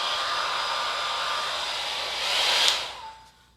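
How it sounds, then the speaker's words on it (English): A steady, loud Bellissima hair dryer blowing with a constant airy whoosh and motor whine, swelling briefly before powering down at the end. "So I used the Diffon Bellissima hairdryer. It's really good."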